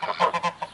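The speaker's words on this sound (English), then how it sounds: "These are the Czech geese" Czech geese honk in a quick run of four or five loud, nasal calls, close by and with no other sound over them.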